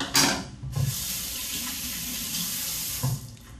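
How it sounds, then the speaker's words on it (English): Tap water runs steadily into a sink as hands are washed while preparing seitan dough, a continuous hiss with brief splashy bursts near the start and again toward the end. "Now I'm washing my hands real good here"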